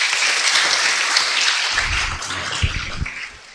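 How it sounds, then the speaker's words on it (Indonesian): Dense applause from a group at an Islamic religious lecture fills the first half, then thins into a few scattered louder claps before fading. "Nah, tepuk tangan."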